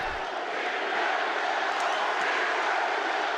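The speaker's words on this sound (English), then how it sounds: "Now, if you want to hear some real goddamn crowd noise" A stadium crowd at a game roars in a dense, sustained wash of cheering and shouting, heard at a distance as a steady broadband swell with a few sharper whoops rising out of it.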